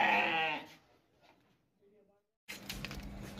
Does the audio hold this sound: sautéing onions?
no